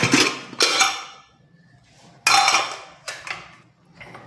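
A pressure cooker lid is handled and opened after four whistles, giving several close metallic clanks and scrapes in separate bursts with quiet gaps between.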